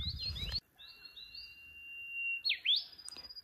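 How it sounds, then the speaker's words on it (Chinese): A bird sings outdoors near a tea plantation in a few clear, bright whistled phrases and chirps separated by short pauses, close and fairly quiet against a still background. "有人知道这个鸟叫什么名字吗？ 叫的挺好听的。"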